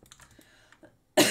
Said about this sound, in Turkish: Konuşurken sürekli öksürüyorum.